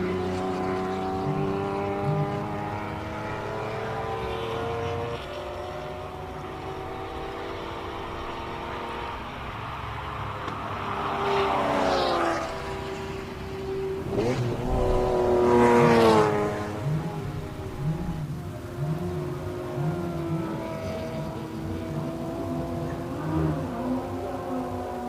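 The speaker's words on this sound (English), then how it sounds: "we're going to shut up and just listen to the Ferrari" A classic Ferrari races up a hill climb, its engine revving hard through gear changes and swelling to a loud peak as it passes, then fading into the distance.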